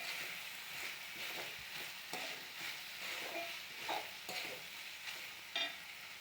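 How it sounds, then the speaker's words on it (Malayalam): Three onions, ginger, garlic and curry leaves sizzle and fry in a pan as a spoon stirs them, a soft steady crackle with intermittent scraping, close and quiet, for an egg curry. "അപ്പോൾ അതിലേക്ക് 3 സബോള, ഇഞ്ചി, വെളുത്തുള്ളി, പിന്നെ കറിവേപ്പില അതൊക്കെ ഇട്ടിട്ടൊന്ന് വാട്ടിയെടുക്കുകയാണ്."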